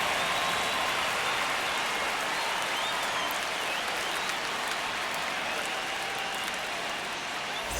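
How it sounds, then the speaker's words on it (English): Stadium crowd in MLB The Show 25 roars steadily for a Baltimore Orioles vs Toronto Blue Jays game, a dense, continuous wash of cheering and applause that holds at a constant level throughout. "The crowd is amped up, ready to get this season underway"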